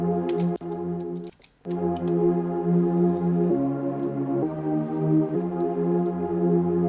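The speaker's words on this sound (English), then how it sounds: "this is how the pad sounds like" A warm sustained synth pad holds chords that shift a few times, colored by a shimmering effect, with faint clicky high ticks scattered on top.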